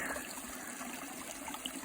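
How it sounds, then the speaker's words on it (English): A mountain trail climbing toward San Jacinto running as a shallow creek, water trickling and rushing in a steady, faint wash with no voices over it. "in some parts the trail is a flowing creek"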